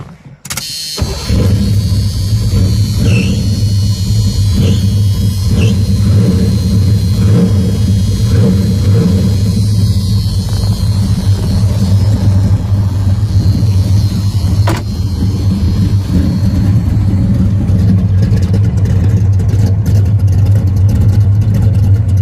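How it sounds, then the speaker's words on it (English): A muscle car engine cranks and fires up, then settles into a loud, steady, rumbling idle through the factory exhaust and mufflers, with a brief rev partway through. "That's your factory exhaust sound that I have, or through the mufflers I should say."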